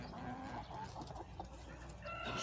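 Ducks and chickens clucking and chattering together in a poultry yard, a steady close mix of busy bird calls and scratching.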